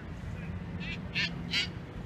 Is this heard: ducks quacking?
yes